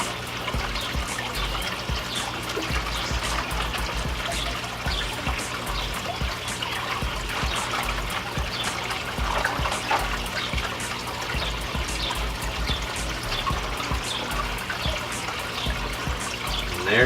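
Water pours and trickles steadily from a bag as guppies are released into an outdoor summer tub, a continuous close splashing that runs alone for the whole stretch.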